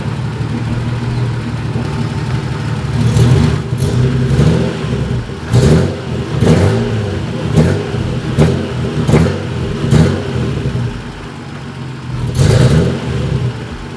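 A drift car's engine revved repeatedly: a rough idle rising into a series of short throttle blips and surges, loud and close, with a final rev near the end.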